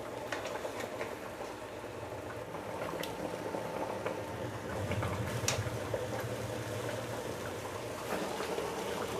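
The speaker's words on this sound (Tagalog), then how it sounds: "Takpan, hayaan muna natin uli na kumulo." A pot of salmon head miso sinigang broth bubbles at a low, steady simmer, a faint continuous burble with small pops, no voices.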